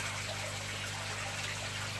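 Water runs from a drip acclimator into a bowl set up for a shrimp tank, a continuous close trickling and splashing wash over a low steady hum.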